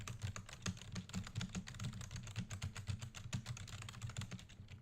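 Rapid clicking keystrokes on a computer keyboard, close and steady, with a quiet low hum underneath and no one talking.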